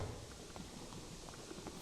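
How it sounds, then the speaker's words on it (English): Muffled footsteps thud steadily overhead in the dark fantasy dungeon game Dark and Darker, a faint, regular patter of treads under a dense ambient hiss. "I hear footsteps up above me."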